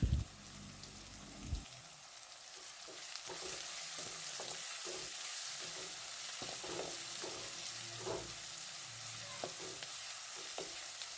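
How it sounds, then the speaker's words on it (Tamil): Onions sauté in hot oil with salt for chicken kuzhambu, a steady sizzling hiss close by, broken by a short clatter at the start and repeated soft scrapes and taps of stirring. "இதுக்கு தேவையான அளவு உப்பு போட்டுட்டு நல்லா கோல்டன் ப்ரௌன் வர அளவுக்கு நல்லா வந்து வதக்கி எடுக்கிறோம்"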